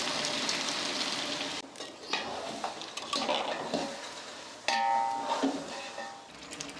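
Three kilos of chicken in large pieces sautéing with salt in a big pot for biryani, a loud close sizzle with clanking utensil scrapes and stirring, and no talking.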